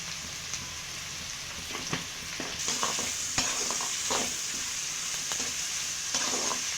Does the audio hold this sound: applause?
no